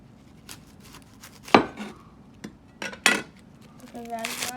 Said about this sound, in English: I'm going to chop up half an onion